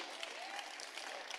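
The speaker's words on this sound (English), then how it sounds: "give Jesus one more round of applause" A church congregation breaks into applause, a brief, even roar of many clapping hands heard from a slight distance with a hint of crowd noise.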